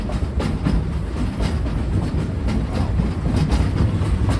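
An old-fashioned steam train at Silver Dollar City rolls steadily along the rails with a continuous rumble and faint rhythmic clatter of wheels, with no voices.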